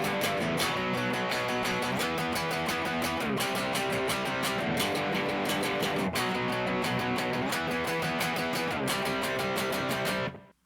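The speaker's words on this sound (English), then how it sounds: "we're going to start playing some power chords." Heavy distorted electric guitar strums a steady sequence of power chords, loud and continuous, changing chord every couple of seconds before cutting off at the end.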